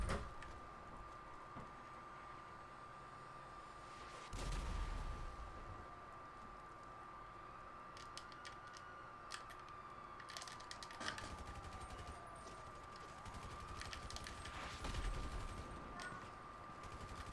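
Faint, distant video game weapon fire from GTA Online rattles in short bursts over a steady hum, with a couple of heavier thumps where rockets appear to launch.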